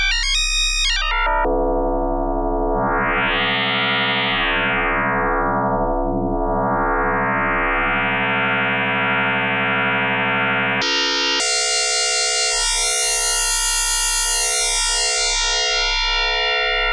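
Metallic FM synth tones from Logic Pro X's EFM1 synthesizer ring out as sustained, buzzy electronic notes with a sweeping, wavering timbre, then jump to a brighter, higher clanging tone, loud and with no talking.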